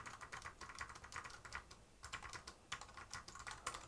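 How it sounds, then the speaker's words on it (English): A quiet Deltaco TB-631 Bluetooth keyboard is typed on quickly, giving soft, faint tapping keystrokes in bursts with short pauses, close and without other sounds. "This is how it sounds when I type on this new Bluetooth keyboard."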